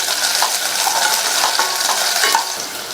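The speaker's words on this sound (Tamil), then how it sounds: "இந்த வெங்காயத்தை 1 நிமிஷத்துக்கு நல்லா எண்ணெயிலேயே வதக்கி விட்டுக்கோங்க" Onions with curry leaves and halved dried red chilies sauté in hot oil, a loud, dense, continuous sizzle with quick stirring scrapes and light metallic taps of a spoon against the pan, no voices.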